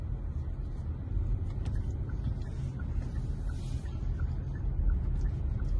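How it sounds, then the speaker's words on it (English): A 2024 Hyundai Tucson SUV drives along a road, heard as a steady low rumble of tyre and engine noise from inside the cabin, continuous and even. "now we are going to be testing its ride quality and let's see how it rides"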